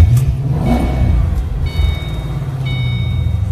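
A 2007 Chipfoose Ford Mustang driving, its engine giving a steady low rumble that swells briefly as it revs, heard from close by without talk.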